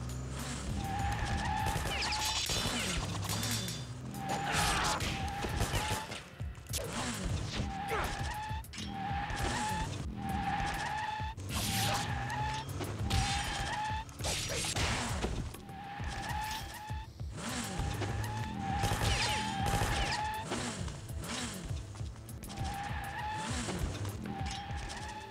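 Motorcycle tires squeal again and again in the video game Ninja Gaiden, repeated shrill skids over a constant roaring engine, with a voice talking over parts of it.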